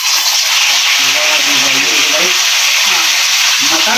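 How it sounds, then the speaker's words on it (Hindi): Mutton and onion frying in hot mustard oil, a loud, close, steady sizzle and hiss with faint voices talking underneath. "मटन और प्याज जो है गर्मा गर्म सरसों के तेल में आने लगा है"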